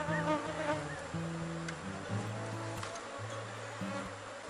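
Honeybees humming steadily around a strong, populous beehive, a dense continuous drone with layered low tones, close and fairly loud throughout, with no talk.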